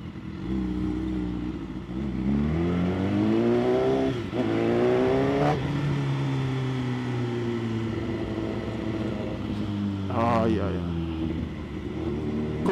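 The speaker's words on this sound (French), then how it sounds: "c'est ma première fois que je roule en S1000 RR" A BMW S1000 RR sport motorcycle ridden through Dakar, its engine revving up and down through several rising and falling sweeps and a sharp upshift, close and loud with steady wind and road noise.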